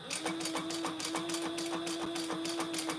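Sewing machine stitching a leather trifold wallet, a steady motor whine under a fast, even run of mechanical clicking needle strokes, quiet and close with no speech.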